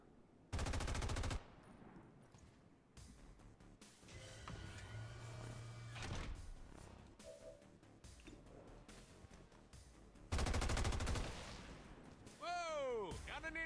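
Gunfire aimed at a turret in XCOM 2 Long War of the Chosen: two loud, sustained automatic bursts of about a second each, separated by quieter game sounds and talk, followed by whooshing shots.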